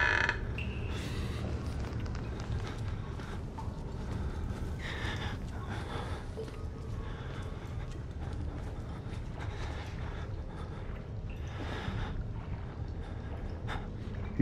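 A door creaks open slowly in the horror game Outlast, drawn-out groaning creaks over a dark ambient rumble, with a few scattered knocks and shifting noises nearby.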